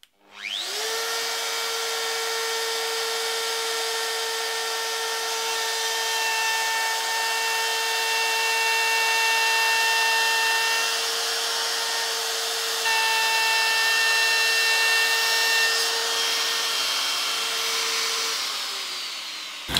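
A wood router with a small bit at top speed trims a wooden board flush, its loud steady whine holding for around eighteen seconds, with the cut roughening the tone as it goes and a spin-down at the end.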